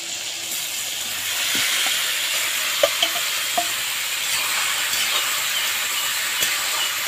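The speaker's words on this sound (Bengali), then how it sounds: "এবার দিয়ে দিচ্ছি মেখে রাখা এঁচোড়।" Marinated raw jackfruit sizzles in a frying pan with softened tomato, a steady broadband frying hiss broken by a few sharp crackles and stirring clinks close by, with no one talking.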